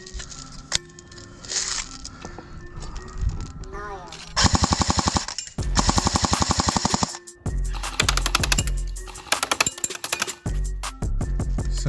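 Airsoft gun firing full auto at about 50 feet: several rapid bursts of sharp, evenly spaced mechanical clacks, loud and close, separated by short pauses and handling clicks.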